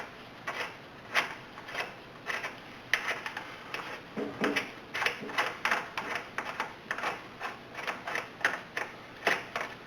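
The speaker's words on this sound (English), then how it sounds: "that one I'll have to get a swivel or do it with a ratchet" A ratchet wrench clicks in quick rhythmic bursts while turning a bolt during a lower control arm ball joint replacement on a Jeep Compass or Patriot; the bursts come close and repeat steadily with brief pauses.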